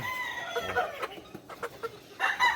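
Young gamecock chickens, about four months old, cluck in short irregular bursts from nearby, with a brief louder flurry of calls near the end and no talk over them.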